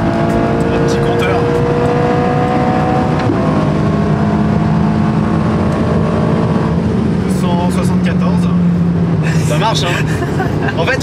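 A Ferrari Roma running at high speed on a German autobahn, its steady engine drone and road and wind roar continuous and loud, with engine tones shifting slightly as it accelerates, while people talk over it.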